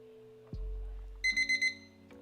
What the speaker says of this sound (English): Oh, there's the beep.